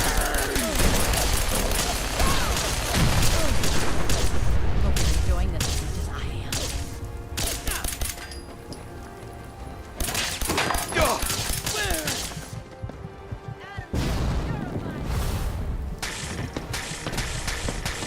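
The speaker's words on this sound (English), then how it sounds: "I used the grenades on the Bloodworm Queen." Bursts of rapid gunfire and heavy blasts from grenades in the video game Fallout 4, loud and dense, running in waves with brief lulls, with voices speaking over parts of the fight.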